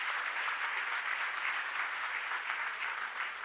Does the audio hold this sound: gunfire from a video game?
no